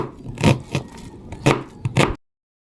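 Knife chopping onion on a cutting board while making lumpiang meatloaf, a handful of crisp, close knocks in an uneven rhythm, then abrupt silence, no talking.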